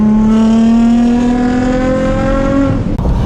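Ford Raptor with EcoBoost V6 at full throttle, a loud, droning exhaust rising steadily in pitch for nearly three seconds before a sharp break as the gear changes, with no voices.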